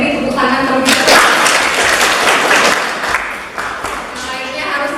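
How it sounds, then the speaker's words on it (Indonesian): A class applauds a student for a correct answer, steady broadband clapping from many hands filling the room for several seconds, with voices mixed in underneath. "Ayo beri tepuk tangan terlebih dahulu."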